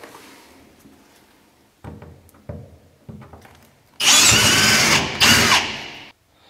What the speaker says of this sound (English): drill back through the wear band only with a 5/16 drill bit